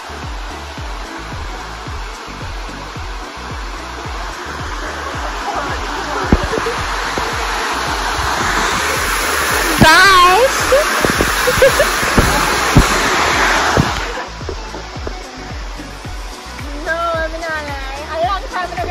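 Rushing water of Falling Edge Waterfall at Bowden Hill, St. Andrew, a loud steady broadband roar close by, with people talking and calling out over it.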